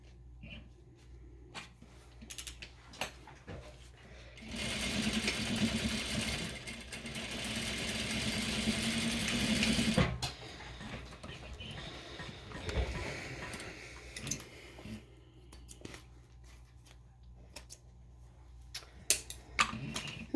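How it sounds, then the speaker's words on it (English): A sewing machine runs steadily for about five seconds, stitching a quarter-inch seam along the bottom of a fabric poop bag holder, then slows into lighter mechanical clicks and handling noises. "I'm going to take this to my machine, and I am just going to sew it 1/4 inch along the bottom of the bag"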